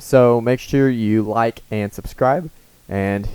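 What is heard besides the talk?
No everyday noise stands out behind the speech.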